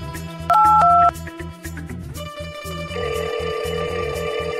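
A telephone rings with a loud electronic bell tone in two quick bursts, then gives way to a steady ringback hum, during a Marathi village comedy sketch.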